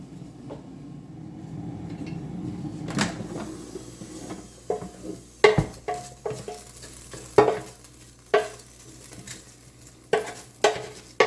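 Potatoes on a grill are stirred and slid around with a small wooden spoon, a low sizzle at first and then repeated sharp knocks and scrapes in irregular bursts, close and loud.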